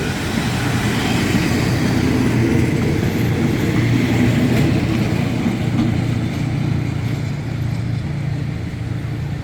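Train 314 from Ban Phachi rumbles into Bang Sue Junction station with a low, steady mechanical drone and rolling wheel noise, fairly loud and close throughout.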